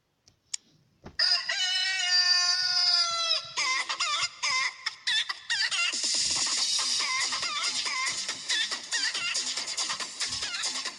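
A crazy chicken ringtone plays a rooster crow and then a rapid stream of frantic clucks and squawks, clear and close with no talking over it.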